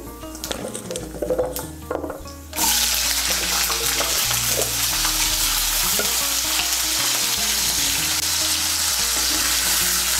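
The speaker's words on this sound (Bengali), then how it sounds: "আলুটাকে তেলের সঙ্গে মিশিয়ে নেব। মিশিয়ে নিয়ে আলুটাকে ভেজে নেব।" Thin-sliced potato strips frying in oil for a Bengali vegetarian potato and eggplant curry, starting with quieter clinks and stirring, then a loud, steady sizzle that holds for the rest of the clip, with occasional scrapes and no talk.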